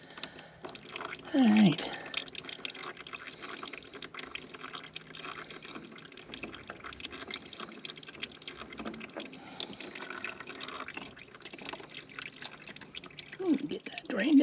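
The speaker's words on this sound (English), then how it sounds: "And I'm sure it's going to drop some oil." Engine oil draining from a Bad Boy 4025H mower into a pan, a faint continuous trickle with occasional drips, under intermittent talk and a few louder handling bumps.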